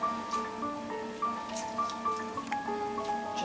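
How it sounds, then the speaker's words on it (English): Fresh lemon squeezed by hand, its juice dripping in a home kitchen while seasoning a dish; soft, scattered drips and light squishes sound over a steady layer of quiet background tones. "I've got lemon juice that I'm going to just squeeze by hand"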